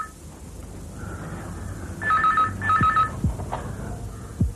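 A telephone rings indoors in two short electronic bursts of trilling tones, moderately loud, with low background murmur and a few soft knocks around them.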